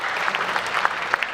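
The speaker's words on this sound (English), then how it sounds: "Round of applause." Audience applause at a tech conference talk on inclusive technology, a steady dense patter of many hands clapping with a few sharper claps standing out, sustained throughout at moderate level.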